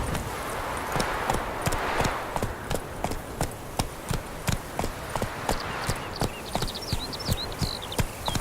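Horse hooves in The Witcher 3 video game, a fast steady clip-clop of galloping strides, close and evenly rhythmic over a constant outdoor wind bed.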